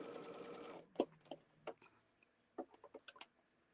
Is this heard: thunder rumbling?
no